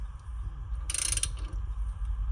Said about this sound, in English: I have my long 1/2-inch ratchet on here. I'm gonna just keep on tightening it.